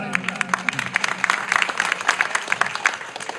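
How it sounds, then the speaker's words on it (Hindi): An outdoor crowd at a Hindi political rally bursts into applause, dense clapping and crowd noise rising and holding steady over several seconds with a faint voice underneath. "भाई पहले तो एक बार सबसे जोरदार ताली बजाएं।"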